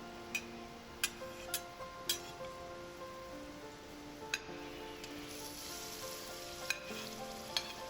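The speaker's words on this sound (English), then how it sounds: "Stir fry the ginger root, garlic, carrot, mushroom, and pork belly first." Ginger, garlic, carrot, mushroom and pork belly stir-frying in oil in a hot pan for rice cakes, a soft continuous sizzle broken by occasional sharp clinks of the spatula against the pan.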